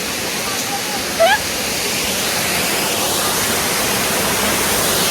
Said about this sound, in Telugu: వాటర్ ఫాల్స్ దగ్గర అందరు వెళ్ళిపోయినారు జస్ట్ మేము మాత్రమే ఉన్నాం వాటర్ సౌండ్ వినిపిస్తుందా మీకు